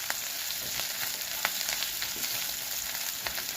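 Grated ginger and green chillies frying in hot oil for a potato masala dosa filling: a steady close sizzle with small irregular pops and crackles throughout, no talk.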